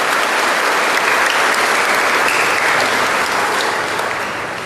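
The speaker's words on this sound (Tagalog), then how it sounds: "Mas malakas na palakpak." Loud, sustained applause from a church congregation at a Simbang Gabi dawn Mass, a dense wash of clapping that holds steady for several seconds and eases slightly at the end.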